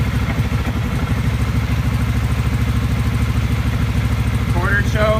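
A Kawasaki VN750 motorcycle engine idles on half choke after a cold start, a loud, steady low-pitched throb heard up close, with a brief bit of chatter near the end.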